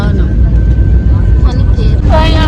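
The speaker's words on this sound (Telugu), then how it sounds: "ఫ్లైట్ ల్యాండ్ అయిపోయింది, ఇప్పుడు దిగాలి." An airplane lands on a flight to Varanasi, its engine roar heard from inside the cabin as a loud, steady rumble. People talk over it, with a sharper whine near the end.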